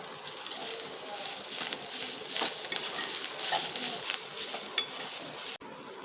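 Masala spices frying in a pan for mutton biryani give a steady, close, low sizzle and crackle with occasional small clinks, continuing throughout with no talking.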